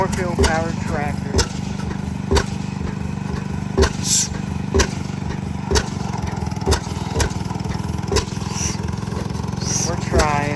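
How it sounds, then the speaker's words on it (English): An antique tractor powered by an Oracle engine runs at an antique farm machinery show, chugging steadily with a rhythmic beat and sharp periodic pops, while people talk nearby. "Gonna get started on an Oracle powered tractor."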